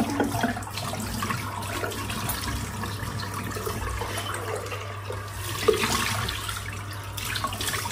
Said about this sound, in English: Rinse the sink out, which is full of hair now.